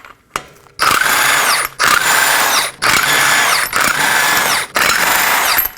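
Five 21mm lug nuts spun off a 2020s Toyota Corolla front wheel with an impact tool, loud close whirring bursts of about a second each, repeated five times with brief pauses between.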